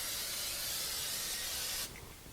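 Cooking spray hisses steadily into a regular pie plate for nearly two seconds, close and bright, then cuts off abruptly.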